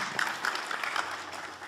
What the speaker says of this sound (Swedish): det är inte tillåtet med opinionsyttringar i form av applåder eller på annat sätt från åhörarläktaren